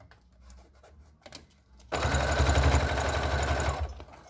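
A sewing machine stitches a pocket onto a clear crystal plastic mask pouch, starting abruptly after a quiet moment with a few faint clicks and running fast and close for about two seconds before stopping.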